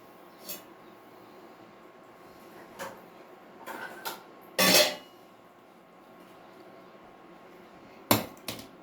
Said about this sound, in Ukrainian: Викладаємо кабачки дуже щільно і заливаємо соусом. Накриваємо кришечкою прокип'яченою.